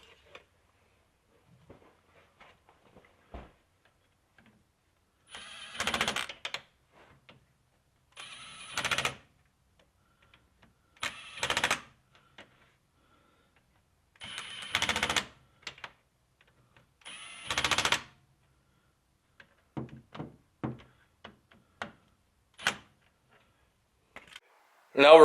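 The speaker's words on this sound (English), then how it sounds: "Gonna use my Milwaukee 3/8 gun, setting number 1," A Milwaukee 3/8 impact gun on its lowest setting drives bolts on a Dana 35 differential, giving several short, sharp rattling bursts separated by quiet gaps, heard close with no talking.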